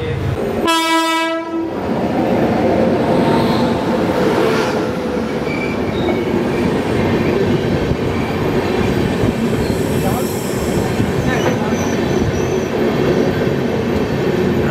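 The 12377 Sealdah–New Alipurduar Padatik Express at Rampurhat Junction sounds a loud, short horn blast, followed by a heavy, continuous rumble of wheels and carriages with occasional squeals.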